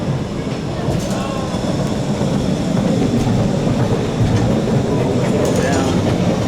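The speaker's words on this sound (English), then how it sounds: "There's the train. I can hear it." A train rolls past in Belém, Lisbon, with a loud, continuous rumble and faint rail clatter and squeal close by. The sound holds steady throughout.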